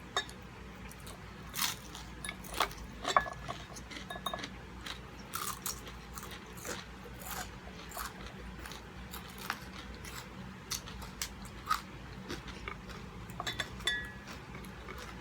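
Dried fish, including dangit, is eaten close up for breakfast, with faint, irregular crunchy bites and clicks scattered over quiet background hum.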